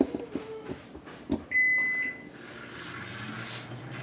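A Kenmore microwave oven with a faulty door sensor runs on its own with the door open, giving a low hum with a few clicks and a single sustained electronic beep partway through.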